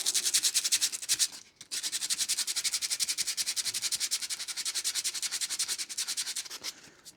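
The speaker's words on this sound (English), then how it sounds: "we'll get a bit of gritty sandpaper into it first, and see how it comes out" Gritty sandpaper works over a 1977 Austin Mini 1000 radiator cowling in quick, regular back-and-forth strokes, a close, hissing rasp that pauses briefly once before carrying on steadily.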